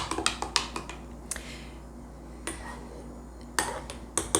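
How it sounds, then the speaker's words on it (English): A utensil stirs kefir inside a glass jar before straining, giving a series of quiet scraping clinks and taps in uneven bursts, with pauses of soft low hum between them. "You mix it pretty well so that you get unified consistency."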